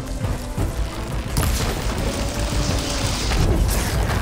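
Bomb explosion in Horizon Forbidden West, a loud, sustained booming roar with crackling debris and rumble filling the few seconds, close and dense.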